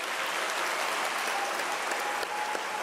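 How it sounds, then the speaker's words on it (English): Steady, dense applause fills a hall at a university autumn graduation ceremony as diploma graduates stand, many hands clapping continuously at moderate loudness with no talking. "Can you give them a round of applause?"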